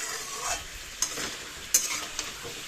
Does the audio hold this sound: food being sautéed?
yes